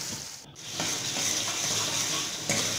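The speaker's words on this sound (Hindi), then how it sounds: "अब इस प्याज को हम चमचे से हिलाते रहेंगे जिससे कि प्याज जल्दी भुन जाए" Chopped onions with salt sizzle steadily in a pan for an Indian paneer dish while a spoon stirs them, giving a continuous hiss broken by soft scraping strokes.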